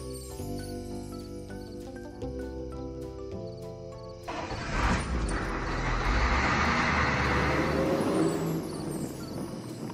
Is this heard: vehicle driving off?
yes